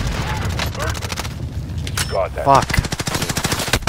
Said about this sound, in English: we're getting shot from up top there